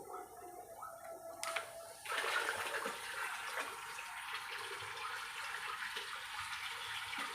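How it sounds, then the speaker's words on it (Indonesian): Water from a tap gushes into a fish pond used for biofloc farming, starting abruptly after a quiet moment and then running as a steady, fairly close splashing rush with no talking. "ini akan saya nyalakan keran airnya."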